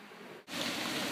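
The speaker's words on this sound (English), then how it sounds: "It's raining." Steady rain pours down at a boat dock on a wet morning, a dense hiss that briefly dips and then returns louder and fuller, with no voices.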